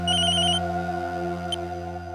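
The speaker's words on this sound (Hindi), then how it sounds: "लोकेश भाई, तेरी जाने मन का फोन आ गया, उठ ले।" A mobile phone ringing with a repeating electronic ringtone, loud and close, holding steady tones with a short chirping melody over the top.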